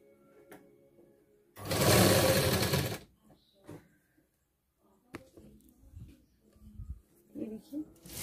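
A sewing machine stitches a double seam on blouse fabric in one loud, steady burst of about a second and a half, then stops, followed by quieter handling noises and some talking.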